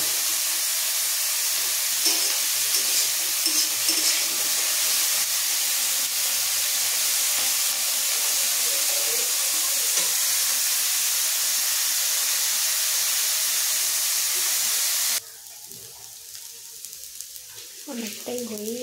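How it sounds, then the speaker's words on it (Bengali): Cauliflower frying in hot oil in a wok gives a steady, close sizzling hiss with faint stirring scrapes, then drops quieter near the end as a few soft kitchen knocks follow. "ফুলকপিটা ভাজা চলছে, কড়ার মধ্যে দিয়েছি"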